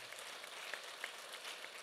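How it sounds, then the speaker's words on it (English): Faint, dense audience applause at a closing session of an inclusive finance conference, an even patter of many hands with a few louder claps. "je vous prie quand même d'applaudir pour dire aux deux gouvernements"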